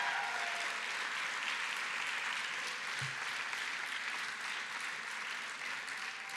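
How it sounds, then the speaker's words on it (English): An awards-evening audience applauds in a steady, far-off wash of clapping that holds at an even level throughout, with no voices rising above it. "Can I get a round of applause for everybody in this room?"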